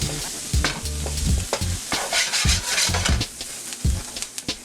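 Dried minced chilies frying in a pan of Cajun-style red sauce, with steady sizzling broken by repeated scraping strokes of a spoon stirring the pan, close and fairly loud throughout.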